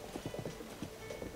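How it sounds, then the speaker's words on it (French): Horse hooves clip-clop in a steady, fairly quick rhythm in the video game Zelda: Tears of the Kingdom, faint and close over a constant background hum, with no talking. "Oh, un cheval absolument magnifique."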